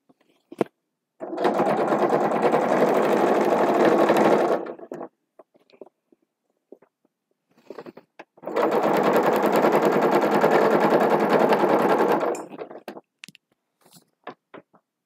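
A sewing machine stitches a seam in two long, steady bursts of fast motor whirring and needle chatter, each lasting several seconds, separated by a pause filled with small clicks and handling taps of fabric.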